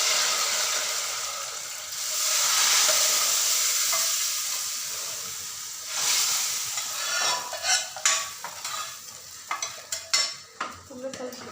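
Hot tempering is poured into eggplant sambar, giving a loud hissing sizzle that swells and fades, followed by a spoon stirring and scraping against the pot in irregular clatters.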